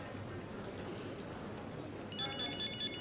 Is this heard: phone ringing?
yes